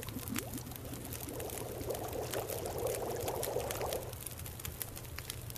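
Water being poured in the survival video game The Long Dark, a faint steady trickling pour lasting a few seconds over a low background hum.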